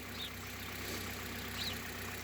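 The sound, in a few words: Hyundai Solaris engine idling, knocking on green 5w30 oil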